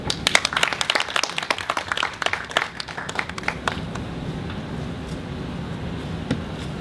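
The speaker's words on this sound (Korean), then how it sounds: "일단 한 번의 박수를 칠기로 하고" Applause from a crowd at the opening ceremony of the 640 Art Tower, dense steady clapping that starts loud and busy, then settles into a softer, even patter for the rest of the stretch.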